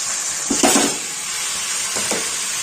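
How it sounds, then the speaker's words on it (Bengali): Chicken is added to a pan of ginger and garlic that has already been fried down, bringing a steady sizzle and hiss with a few soft stirring knocks, close and fairly loud. "আদা রসুনটা ভালো করে কষিয়ে নিয়েছি, এবার আমি এর মধ্যে দিয়ে দেবো চিকেনটা।"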